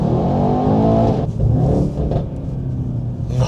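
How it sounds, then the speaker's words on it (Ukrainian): A Mercedes-Benz E63S Edition 1 accelerating on the move, its engine a loud, close, steady roar that dips briefly and then surges again. "Ми їдемо зараз ходом, і я просто натискаю газ."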